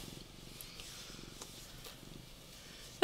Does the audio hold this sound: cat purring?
yes